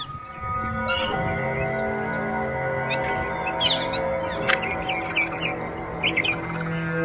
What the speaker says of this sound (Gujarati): પક્ષીઓ કેવા કલરવ કરી રહ્યા છે